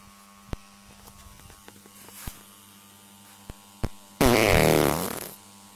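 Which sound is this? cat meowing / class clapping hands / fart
fart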